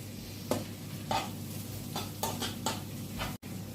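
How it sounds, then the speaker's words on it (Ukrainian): Onions and a large carrot sauté in a pan while being stirred, with several soft scraping strokes over a low, steady sizzle. "Потім добавлю помішую, щоб не пригорало"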